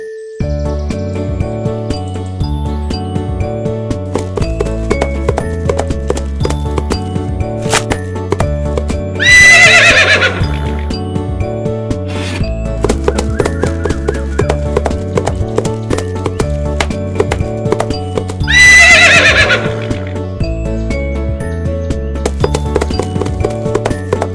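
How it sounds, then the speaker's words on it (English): Cartoon ponies trot with steady, quick clip-clop hoofbeats over a bright, jingly animated music track, and two loud neighs break in about ten seconds apart. "There are 7 ponies over here."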